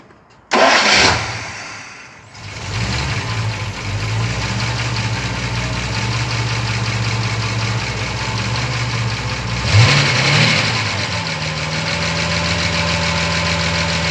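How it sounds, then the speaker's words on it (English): A Jaguar E-type V12 engine cranks and fires up loudly, then settles into a steady, deep idle with a brief rev partway through. "so now the engine will start"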